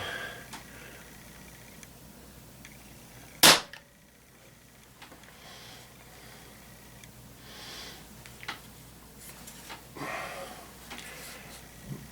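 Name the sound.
Beeman P-17 .177 pellet pistol being shot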